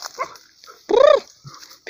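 A dog gives a single loud, close bark-like yelp in an outdoor hunt for a tegu lizard, with faint scattered sounds before and after.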